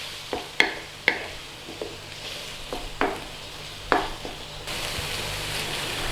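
Eggs and tomatoes frying over a high flame, with a steady sizzle and sharp clicks of a utensil striking the pan, the sizzle swelling louder toward the end.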